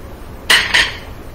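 Two quick clinks as a chopped big garlic clove drops into a slow cooker for five spice barbecue pork ribs, close and short, with a brief ringing tail and no talk.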